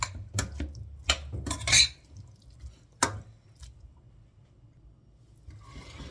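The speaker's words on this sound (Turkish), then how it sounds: "Hemen makarnamı yani kuskusumu da şöyle bir karıştırıyorum." Spoon scraping and clinking against a bowl while couscous is mixed with mayonnaise, a few sharp taps in quick succession, then quieter sparse clicks.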